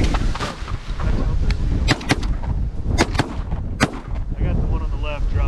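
Shotguns fired at geese during a late-season goose hunt in Wyoming, with several sharp blasts in quick succession over wind noise and outdoor rumble, fairly close and loud.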